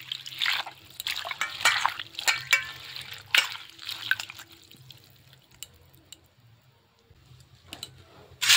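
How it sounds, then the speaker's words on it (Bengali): Hinche greens rinsed by hand in clean water, soft splashing and dripping with stirring sloshes in quick irregular bursts, close and fairly quiet, fading to near stillness before a final splash. "ভালো করে পরিষ্কার জলে আগে আমি ধুয়ে নেব শাকগুলোকে।"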